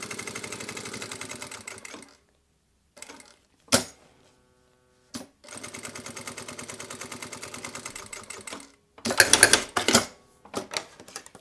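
Sewing machine running in bursts while stitching lurex bias binding along the edge of fabric for a passport wallet, with steady whirring runs, pauses between, and a few sharp louder clacks.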